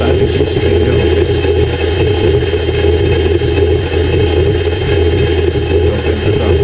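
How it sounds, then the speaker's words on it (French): An electric motor on a progressive soft-start setup runs steadily at close range, a continuous loud mechanical hum with a low drone that holds fairly even throughout. "vous allez remarquer que le son du moteur est en train de changer"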